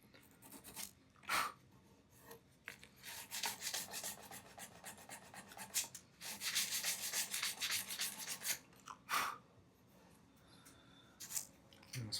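Fine-grit sandpaper rubs in short bursts and longer strokes along the nut slot edges of an acoustic guitar, a close, dry scratching with pauses between passes and no talking.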